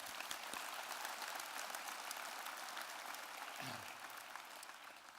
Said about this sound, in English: Let's give my family a big round of applause.